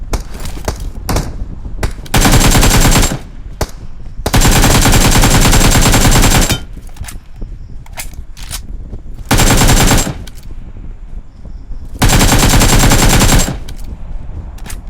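Bursts of rapid automatic gunfire in a video game arrive in long sustained volleys separated by short gaps, loud and close, with a few single shots in between and no talk.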